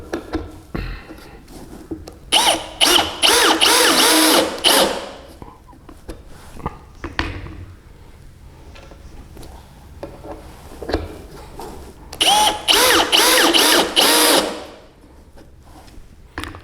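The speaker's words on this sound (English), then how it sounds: "So let's do some screwdriving activity with our GSR 185." A Bosch GSR 185-LI cordless drill/driver fitted with a PH2 bit drives screws in two loud, whirring bursts of a few seconds each, separated by quieter handling noise and light clatter.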